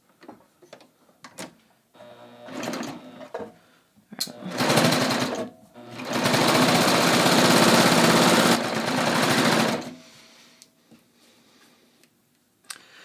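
A sewing machine stitches a hem with the fabric edge butted against the needles, starting with scattered clicks and short bursts, then running in a loud steady whir for several seconds before slowing to quiet ticks.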